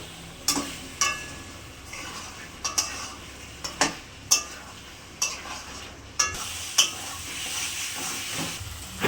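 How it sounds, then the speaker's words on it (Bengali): Spice paste and fried potatoes are stir-fried with salt and sugar in a pan for a fish curry. A spatula scrapes and clanks against the pan in sharp strokes every second or so over a soft, steady sizzle. "লবণ দিয়ে দিলাম, মশলাটা ভালো করে কষিয়ে নেব।"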